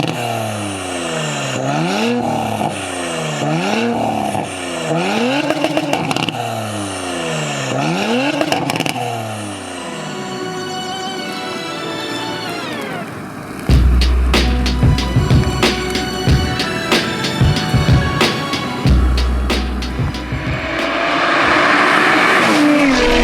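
An Audi RS5 with a tuned TDI engine revs up and down in repeated rising sweeps, then roars as it accelerates hard with gear changes and crackling exhaust pops, loud and close.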